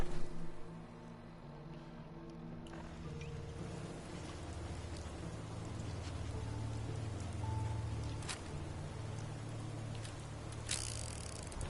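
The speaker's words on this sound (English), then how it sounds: "Still raining." Steady rain falls in a PS4 video game, a dense continuous patter with occasional brighter drop hits over a low rumbling background and layered game music tones, with no talk.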